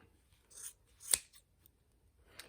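Sharp scissors snip through yarn loops while trimming a handmade pom pom for a knit hat, giving a few quick, close, crisp cuts spaced apart in a quiet room.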